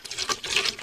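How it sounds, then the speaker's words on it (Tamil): Water is poured out to wash down a house floor, a brief, close splashing gush with uneven bursts, lasting under a second. "ஊத்துங்க வீட்டை நல்லா கழுவுங்க சின்சான்."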